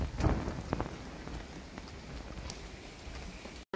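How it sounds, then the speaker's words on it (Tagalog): Steady rain patters on a surface nearby at Sirao Garden in Cebu, a soft continuous hiss with a few louder drops near the start. "Ulan-ulan."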